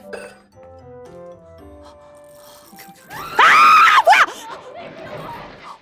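A sudden, loud, shrill scream bursts out after quieter electronic tones and a man's muttering, then fades into softer sounds.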